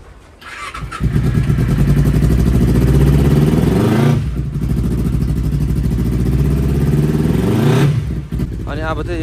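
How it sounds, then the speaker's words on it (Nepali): Motorcycles are started one after another in the rain, with an engine catching after a brief crank and then running loudly and steadily, dipping at around four seconds before firing again, with a short gap near the end. "बाइक चाहिँ निकाल्नु पाउँदैन रहेछ, त्यही भएर चाहिँ म स्टार्ट चाहिँ गरिरहेको छु है सबै बाइकहरू"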